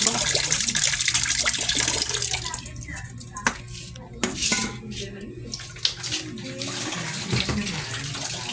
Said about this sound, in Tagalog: nilalagay na po namin yung water sa may balde